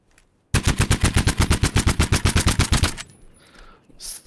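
Rapid automatic burst from a SCAR rifle in a video game, about twenty sharp, evenly spaced shots over two and a half seconds, loud and close, then a short tail of echo and quiet.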